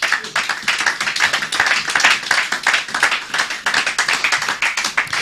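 A church congregation claps together to acclaim the Lord, a dense, continuous burst of many hands at full volume with a loose rhythmic pulse, no voices.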